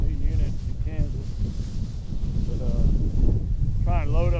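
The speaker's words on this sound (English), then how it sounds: "The wind's gonna be horrendous." Strong wind gusts buffet the microphone outdoors on Kansas public hunting land, a loud, steady roar throughout with a voice talking over it.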